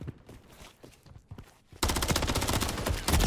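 Video game gunfire in a hardpoint match, sparse shots at first, then a sudden sustained burst of rapid automatic fire aimed at the player, loud and dense, with no talk over it.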